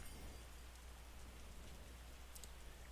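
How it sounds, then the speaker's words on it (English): Steady rain falls in the wine-making game Terroir, a soft continuous patter that holds evenly throughout, faint and distant, with no voices. "I already hear it tinkling, so it's going to be a rainy season already."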